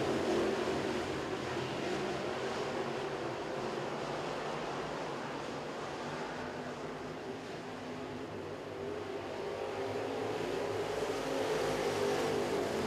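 Late model race cars roar down a speedway's back straightaway in a steady, broad wash of engine noise heard from a distance.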